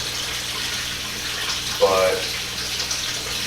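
Water splashing out of a pipe elbow into a backyard pond, a steady close wash with a brief louder gush partway through and a voice speaking one word.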